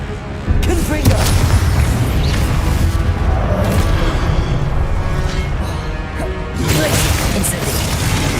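Confringo spell blasts in Hogwarts Legacy on Xbox Series, with a few loud booming explosions and crashes layered over dense, continuous game noise, and a voice speaking through part of it.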